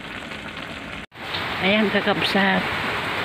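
Rain falls steadily on a surface as a continuous broadband hiss that runs through the whole stretch, briefly cut out once, while a person talks over it.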